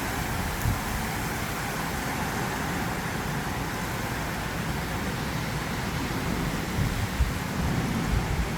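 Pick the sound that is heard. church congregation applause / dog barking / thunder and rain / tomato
thunder and rain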